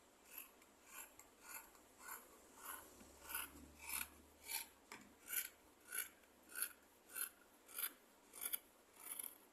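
Scissors or shears cutting cloth for an umbrella skirt waistline curve, a steady series of about fourteen rhythmic rasping snips, close and moderately quiet, with no talking.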